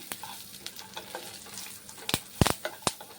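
Turmeric powder and curry leaves frying in oil for lemon rice make a quiet sizzle, broken by sharp, uneven spatula scrapes and taps that get busier toward the end.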